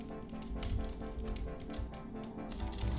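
Quiet, rapid clicking of keys being typed on a keyboard, an uneven run of light taps with short pauses between bursts.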